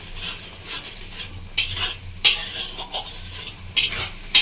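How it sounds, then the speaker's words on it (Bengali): A spoon stirs mushroom poppy seed curry (posto) in a pan, making intermittent scraping strokes against the metal over a low, bubbling simmer, close and fairly loud. "এবার নাড়িয়ে নেব।"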